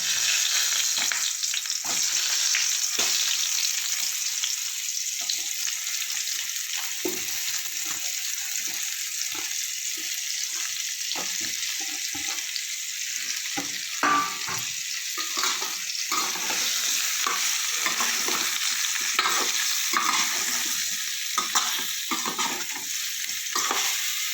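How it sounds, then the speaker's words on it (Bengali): Cauliflower fries in mustard oil with salt and turmeric in a kadai, a loud continuous sizzle punctuated by frequent clattering stirs and scrapes throughout, with no one speaking. "কড়াইতে একটু নুন হলুদ সামান্য দিয়েছি দিয়ে এবার ভেজে নেবো ফুলকপিটা"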